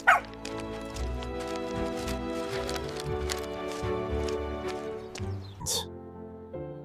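A tiny Chihuahua yips and barks in quick repeated bursts, faint and fairly close, set against a dense steady tonal backdrop.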